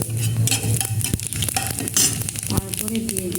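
Bay leaf, cinnamon and white cardamom fry in hot mustard oil for a sweet mango pickle, giving a steady, close sizzle with scraping stirring clatter throughout.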